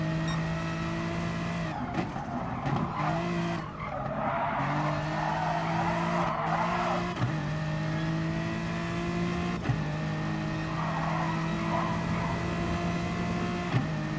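A BMW race car in a league race drives hard with a steady, droning engine note, shifting pitch as it accelerates, with tyres squealing and skidding through corners, heard close and continuous without talk.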